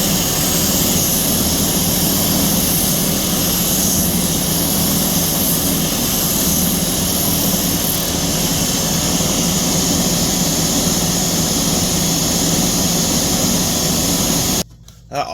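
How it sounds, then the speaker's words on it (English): A Vevor oscillating spindle and 4x24 belt sander runs with a loud, steady whirring roar that continues unbroken and then cuts out abruptly just before the end. "That oscillating action just helps clean sandpaper and just can make a really smooth finish in pretty short order"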